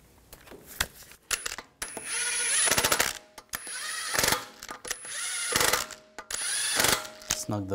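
A power tool drives lug bolts onto the wheel of an Audi A4 Quattro, four bursts of whirring and rattling separated by brief pauses and small metallic clinks, close and fairly loud.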